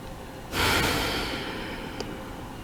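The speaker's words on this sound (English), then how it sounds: "Nice deep inhale. And open the mouth, let it go." A single deep, audible breath drawn in and released through the mouth, a strong airy rush that fades over about a second, with a faint click afterward and no talk.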